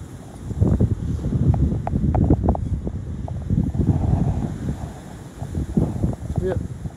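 Strong wind buffets the microphone on the Jaywick seafront, a loud continuous rumble with gusts throughout, mixed with voices talking.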